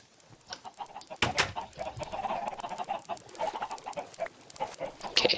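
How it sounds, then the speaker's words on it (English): Chickens in the Minecraft video game cluck repeatedly in short, uneven bursts, fairly close and clear, with a few sharper squawks and no talk over them. "Okay, so these chickens are heading out of here."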